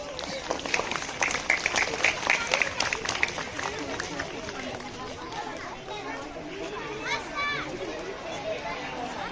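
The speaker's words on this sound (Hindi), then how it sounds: "एक बार सभी बच्चे जोरदार ताली बजाएं।" Children applauding during a school foundation day celebration at Kendriya Vidyalaya Golaghat, with clapping and chatter mixed with crowd babble; a lively, continuous wash of claps and voices at moderate level.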